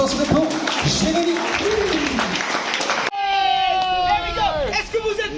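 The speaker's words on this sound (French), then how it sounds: "Messieurs, un tonnerre d'applaudissements s'il vous plaît pour Jérémy." An audience breaks into loud, dense applause with crowd noise after a card trick, lasting about three seconds before an abrupt cut to different, tonal sounds.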